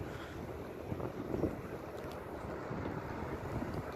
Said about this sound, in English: The wind's kind of picked up